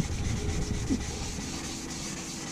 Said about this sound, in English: It just kind of works a lot better too when the sanding paper is wet.